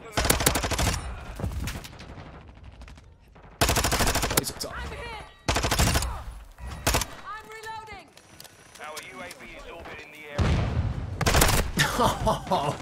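Bursts of automatic rifle fire in Call of Duty Modern Warfare 2 come in several loud, dense volleys, with gaps between them. Someone talks over the quieter gaps.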